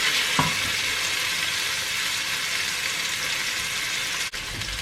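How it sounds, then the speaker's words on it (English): Onions, garlic and pine nuts sizzle steadily in a hot pan while a Mediterranean risotto is being cooked; a close, constant frying hiss with a brief scrape of stirring near the start and a short clunk near the end. "add your garlic and your pine nuts and just fry them off a little"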